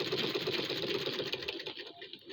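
A sewing machine runs fine stitching on a frock, a fast steady mechanical rattle close by that slows and stops after about two seconds.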